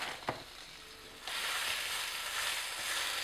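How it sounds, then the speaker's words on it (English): Spinach wilts in a hot pan: after a brief clatter, a dense, steady sizzle starts abruptly and holds loud and close to the end, with no voices. "Wilt some spinach, so put the pan back on the heat."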